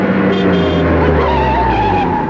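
A car's tires skid hard to a stop on a busy city road, a loud continuous screech with engine rumble lasting the whole moment, close and alone without talk.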